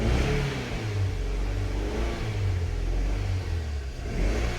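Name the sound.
2008 Scion xB engine running with ignition coil misfire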